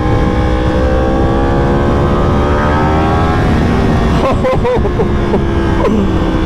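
A Yamaha R1 sport motorcycle engine roars loudly and continuously, its pitch sweeping upward as it revs and accelerates, then falling back into a few shorter rev blips, all heard close by.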